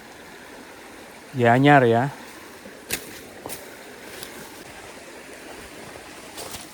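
A river stream flows through dense forest in Bali as a steady, faint water wash, with a brief nearby voice speaking over it early on and a few soft knocks afterward.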